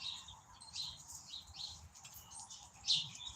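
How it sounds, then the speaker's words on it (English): Birds chirp at backyard bird feeders under a cloudy sky, with soft overlapping tweets and calls at a fair distance and a louder chirp near the end, all fairly quiet with no talk. "you can see all the birds behind me, guys"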